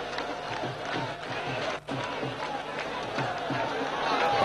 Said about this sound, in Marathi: प्रचंड गर्दी या मोदींच्या रॅलीला झालेली आपल्याला पाहायला मिळते